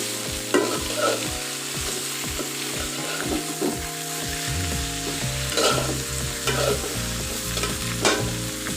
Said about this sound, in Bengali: এখন আমি একটু নেড়ে চেড়ে নিব